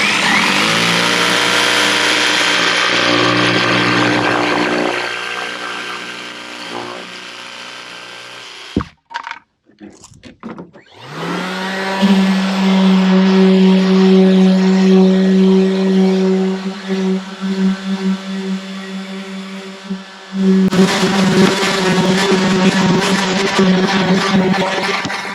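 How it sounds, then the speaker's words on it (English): Power tool cutting out and then sanding the edges of a kayak anchor mount for a NuCanoe Unlimited, loud and steady with a whining drone, a brief pause near the middle, then sustained grinding resuming at full volume. "we're going to do our final cutout here, and then we're going to get these edges all sanded up here so they're not sharp"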